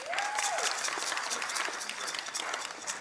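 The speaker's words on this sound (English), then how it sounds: "Can we give him a round of applause?" An audience at a city council meeting claps for a guest, a fairly faint, dense patter of applause lasting a few seconds at an even level, with a brief rising tone near the start.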